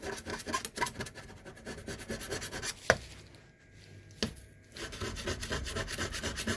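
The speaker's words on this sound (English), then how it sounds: "Yeah, if you scrub with a knife, it goes." A knife blade scrapes across a stove hob to clean off grime, producing rapid repeated rasping strokes close by, with a pause and a couple of sharp clicks midway before the scraping resumes.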